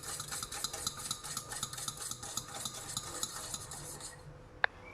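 A French toast mixture of sugar, cinnamon and vanilla extract gets whisked in a bowl, making rapid rhythmic scraping and clinking strokes that stop near the end with one sharp tap.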